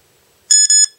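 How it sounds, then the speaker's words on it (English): A Drift Ghost action camera gives two quick high-pitched electronic beeps in close succession as it stops recording, clear and loud against silence. "you can see it makes a double beep"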